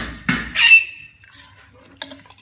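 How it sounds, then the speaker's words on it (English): A parrot gives two sharp, close squawks, the second trailing into a thin whistle, in a Pakistani village in Jhelum where curry is being cooked outdoors; faint clinks and soft background noise follow. "They've got a parrot that's making noise."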